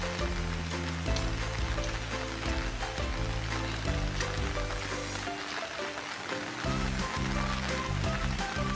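Steady rain falls on a rainy afternoon, a continuous patter on surfaces mixed with a droning background and periodic low thumps, no voices.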